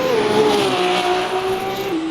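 The number 36 race car in the Le Mans Ultimate racing game at the 24 Hours of Le Mans, its engine whining in a steady high tone that slowly drops in pitch, with faint tire noise and no talk.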